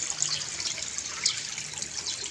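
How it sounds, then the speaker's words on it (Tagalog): Water leaks and drips steadily inside a house, a soft, continuous trickling patter heard close up on its own. "Ang lakas ng tulo."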